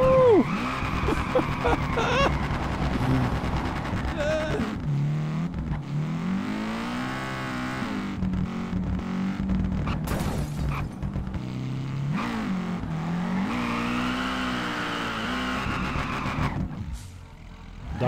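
A car drifts in the Peak Angle: Drift Online racing game, its engine loud and close and rising and falling in pitch through revs, with a tire squeal rising near the end and no talk.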